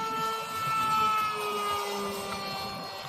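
An electric RC model of the Celera 500L aircraft flies at full throttle, its motor giving a loud, sustained high whine with steady harmonic tones over a rushing, airy background.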